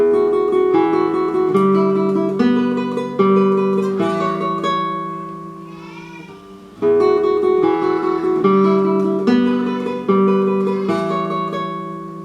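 Close, clear classical guitar tremolo from Schubert's Ave Maria: quick repeated high notes over shifting bass notes, with a short fading pause in the middle before the passage resumes.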